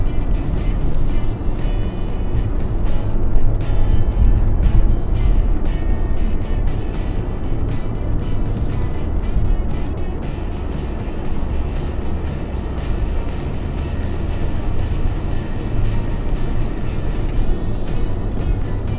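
A car grinds along a rutted, sandy mountain road in two-wheel drive, a loud, continuous low engine rumble with broadband road and cabin noise, steady throughout with no talk.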